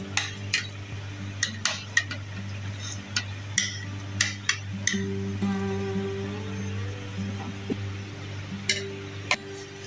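Aloo gosht curry being served into a dish, with a series of sharp ladle and spoon clinks against metal and crockery spread irregularly over a steady low background hum, no talking.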